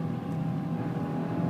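A Fiat Panda 100hp engine is held steady around 4500-5000 rpm, giving a continuous close, loud buzzing drone with little change in pitch.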